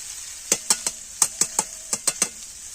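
Grated ginger being stirred into a sweet olive pickle, a spoon clinking against the pot in a quick, uneven rhythm of about ten taps over a faint hiss.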